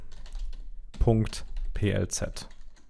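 Someone types code on a computer keyboard in a run of quick, close clicks, while someone speaks briefly partway through.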